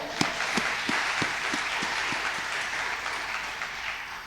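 A church congregation claps together during a Sunday worship service, producing steady, dense applause with distinct rhythmic beats, moderately distant and filling the room throughout.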